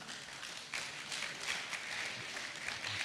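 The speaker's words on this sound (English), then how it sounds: "Ladies and gentlemen, give a big round of applause" Applause for a speaker at an Arabian horse racing conference in Rome, a steady wash of clapping from a large audience heard from a distance that swells slightly and holds for about three seconds.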